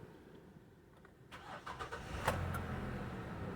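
A Chrysler Town & Country minivan engine cranks and starts after its codes are cleared, a quiet hum giving way to a few sharp starter clicks and then a steady running idle, close and moderately loud.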